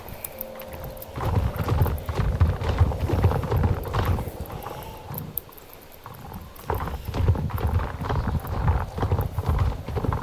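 A horse in the Star Stable video game trots along, its hooves clip-clopping in a fast, steady rhythm close by, with a brief whinny and some light ambient wind behind the hoofbeats.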